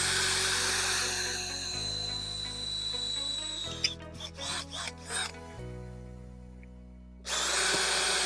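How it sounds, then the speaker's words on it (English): An electric drill with a 5mm pilot bit bores through aluminium, whining steadily with shifting pitch, then stuttering in short bursts before a pause and a loud restart. "I'm just going to use the pilot drill for a start, 5mm"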